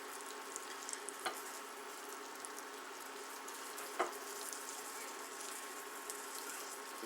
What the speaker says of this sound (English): then I just put them in the frying pan and drop them once or twice